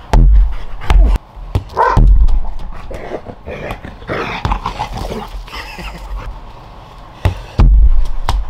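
Several dogs bark loudly and close by in sharp, repeated bursts, some in quick pairs, with scattered quieter sounds between volleys.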